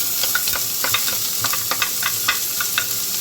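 Chopped onion sautéing in hot refined oil for a vegetable momo filling gives a steady, dense sizzle, broken by repeated scraping stirs of a spoon against the pan, close and loud with no talking.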